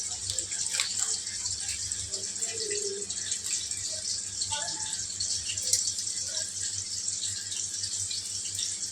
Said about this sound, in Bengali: পায়েসের জন্য দুধ ঢালছি।